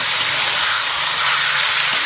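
Chicken frying in butter in a pan, giving a steady, loud, unbroken sizzling hiss with no pauses or voices.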